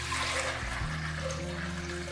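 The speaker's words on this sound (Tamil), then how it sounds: "அரிசி கொண்டக்கடலை தேவையான தண்ணி ஊற்றி" Water pours steadily into a pressure cooker holding soaked chickpeas and rice, a continuous rushing splash with a low hum beneath, close and fairly loud throughout without talk.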